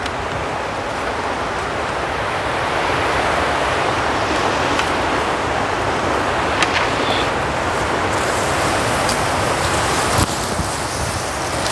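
River water flows in a continuous, broad rushing wash that stays fairly loud and steady throughout, with a few faint clicks and knocks on top.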